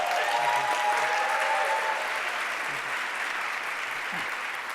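A gala audience gives an alumnus a round of applause, a broad, even wash of many clapping hands that holds strong throughout and eases slightly toward the end.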